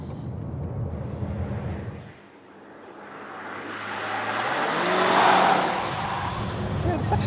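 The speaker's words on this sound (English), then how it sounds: "I'm going to go for a faster lap around our track here" Mazda CX-80 hybrid SUV pushed hard on a fast lap around a test track, engine note building and swelling loud with a rising whine and faint tyre noise, continuous and close.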